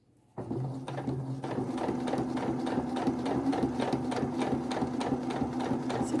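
A sewing machine runs steadily along a straight seam, starting abruptly after a moment of quiet and then holding a rapid, even mechanical rattle of needle strokes close by with no talking.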